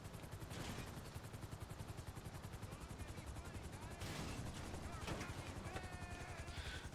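Rapid gunfire in GTA Online, with dense bursts of automatic shots rattling continuously and louder crackling volleys midway, heard alongside game ambience.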